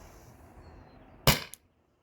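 A single sharp, loud crack from an HPA-powered gun fired over a chronograph, a short burst with a brief tail after a quiet hiss, then silence.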